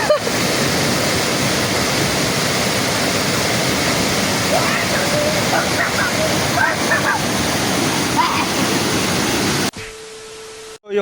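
Waterfall roaring steadily as a broad, continuous rush of falling water, close and loud for most of the stretch before it cuts off abruptly near the end.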